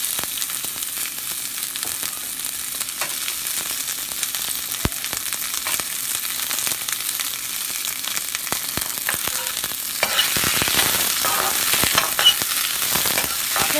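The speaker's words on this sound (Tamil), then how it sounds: "இப்போ நம்ம வெங்காயத்தை இதில் சேர்த்து வதக்கி விட்டுக்கலாம்." Chopped onions sauté in hot oil in a pan for potato masala, giving a steady, close, broadband sizzle that grows louder and busier near the end with occasional spatula scrapes, and no voices.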